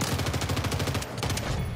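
Rapid bursts of gunfire in the video game Warzone 3, a fast repeating rattle of shots that pauses briefly and resumes, loud and continuous with no talking.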